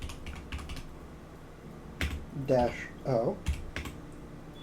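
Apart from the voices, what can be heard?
typing a terminal command on a computer keyboard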